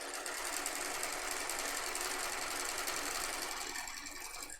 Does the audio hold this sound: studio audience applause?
no